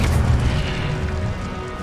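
A single Incendio fire spell bursts from a wand in Hogwarts Legacy, a loud whooshing boom with a roaring low rumble that slowly fades.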